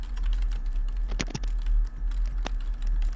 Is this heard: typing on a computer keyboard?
yes